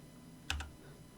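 A single computer keyboard key is pressed, giving one quick, quiet double click against a soft background hum, with no voices.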